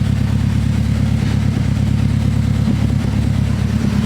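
A GS-R AWD car's engine idles steadily in a warming-up state, a loud, constant low rumble held close without changes in pitch, and nobody speaks.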